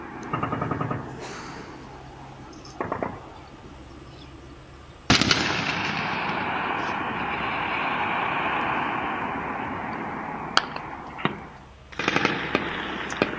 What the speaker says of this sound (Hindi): पाक अफगान बॉर्डर पर फायरिंग हुई है